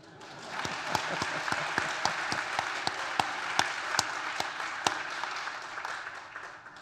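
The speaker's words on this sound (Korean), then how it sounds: "우리 교회 장로님들에게도 박수 한번 쳐주시죠." A church congregation claps for its elders: applause swells in and holds steady, many hands together with distinct louder claps punctuating the wash, fairly close and continuous for several seconds.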